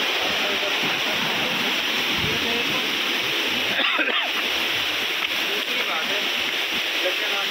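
Water pouring and splashing at Tunki waterfall in Mayurbhanj, Odisha, a loud continuous rushing roar close by with a person talking over it.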